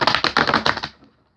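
A new, stiff deck of energy cards is shuffled in a quick burst of rapid, crisp clacks and riffles close by. It ends abruptly in quiet, with no talking.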